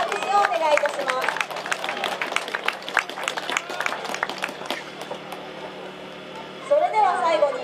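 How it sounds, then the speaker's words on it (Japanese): Clapping rises at a flag football award presentation for the MIP winner, bursts of applause under an announcer's amplified voice and crowd chatter, thinning toward the end before a new vocal phrase. "高谷美奈選手に今一度大きな拍手をお願いいたします"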